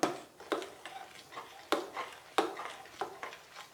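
Spoon clinking against a bowl while mango pudding mixture with squeezed lemon juice is lightly stirred, giving a series of sharp, close ticks at an irregular rhythm, about eight taps over a few seconds, with no talking.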